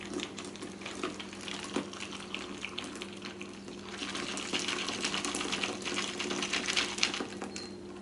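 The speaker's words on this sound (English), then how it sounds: "we're going to pour that into the glass" Candy corn cocktail poured into a glass, a continuous quiet splashing trickle of liquid that grows a little fuller toward the end.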